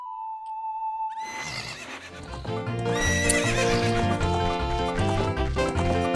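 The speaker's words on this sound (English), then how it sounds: "we get Epona's song out, and she's gonna remember who we are" Epona, the horse in the video game The Legend of Zelda: Ocarina of Time, gives one loud neigh after a brief melody, followed by quick, steady clip-clop hoofbeats as she approaches.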